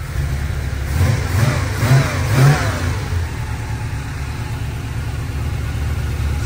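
A GM Performance crate 350 V8 on a cold start idles with a steady low rumble, then revs up in a few rising blips around the two-second mark before settling back to a fast idle, close and loud throughout.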